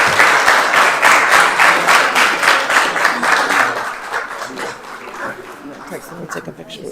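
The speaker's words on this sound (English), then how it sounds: "So one last round of applause." A room applauds honorees at a city council meeting, with steady clapping that fades after a few seconds into scattered claps, light chuckles and murmuring voices.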